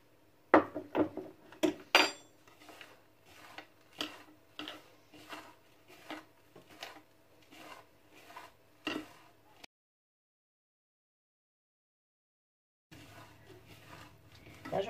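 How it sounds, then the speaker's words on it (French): A spoon knocks against a bowl in steady repeated taps and scrapes while ingredients with cinnamon are mixed, close and clear, with a speaking voice over part of it and a silent gap before the stirring resumes. "Là, je mélange bien pour être sûr que tous mes ingrédients sont bien mélangés les uns aux autres"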